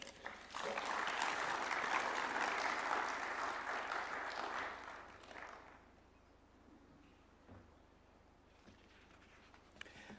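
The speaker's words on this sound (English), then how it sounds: "Another round of applause for Zainab." Audience applause at a United Nations event, heavy sustained clapping for about five seconds that then tapers off into a quiet room with a few faint stray sounds.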